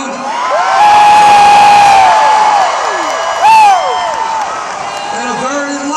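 A large, loud rally crowd at a Bernie Sanders event in the Washington Avenue Armory, Albany, cheers and whoops continuously, with rising shouts and a burst of louder cheering midway.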